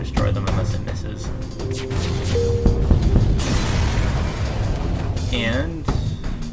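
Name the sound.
enemy ship exploding in the video game FTL: Faster Than Light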